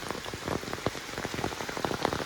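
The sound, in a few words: heavy rain falling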